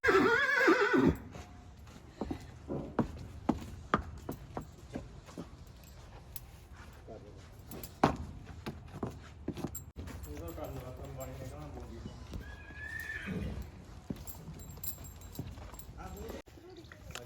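A stallion is kept on a farm, with horses and mares nearby. A sharp neigh opens the scene, followed by scattered hoof thuds and stamping at moderate distance. Quieter animal sounds and people's voices mix in throughout.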